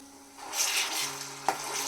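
Onions and ginger-garlic paste sizzle in oil in a pan while being stirred for a chicken fry, a steady close frying hiss with a small utensil knock near the end; no one speaks.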